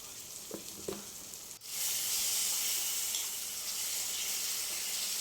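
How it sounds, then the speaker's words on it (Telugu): Ginger paste hits a hot pan with cooked chicken and bursts into a loud, steady sizzle after a couple of soft clinks, frying continuously up close. "అల్లం పచ్చి వాసన పోయేదాకా మనం ఫ్రై చేయాలి"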